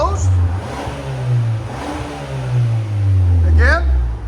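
2024 Hyundai Sonata N-Line 2.5L with exhaust valves closed, revving in two long rising-and-falling swells with a deep steady drone, close and loud, with a brief squeal near the end.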